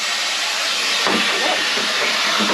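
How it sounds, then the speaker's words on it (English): A loud, steady hissing roar of a carpet cleaner's motor and suction running continuously, close by, with a slight shift in tone partway through. "That's how I clean the carpet and stuff."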